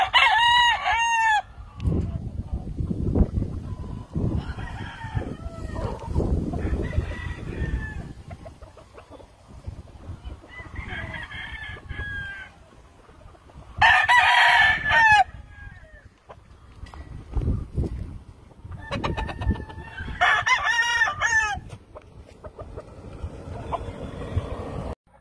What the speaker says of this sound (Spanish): Corrida de giros en patas blancas, gallos machos.